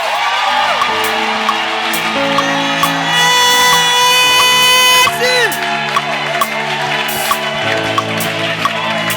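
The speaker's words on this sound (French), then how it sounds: "est-ce que tu peux pousser des cris de joie?" A congregation at an evangelistic church service shouts and cheers for joy, loud overlapping whoops and cries that swell mid-way before settling.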